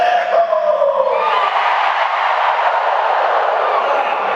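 Huge crowd of over 12,000 at a D23 Disney panel roaring and cheering on request, a dense sustained wall of shouts and whoops that swells and holds, following a brief voice at the start.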